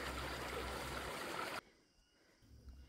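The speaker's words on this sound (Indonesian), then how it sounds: "kita bisa mendapati sebuah sumber air ya, dan juga sungai kecil" Small mountain stream near a water spring on a Mount Ungaran hiking trail, a steady close rushing trickle that fills the first second and a half, then abruptly drops to a much quieter background.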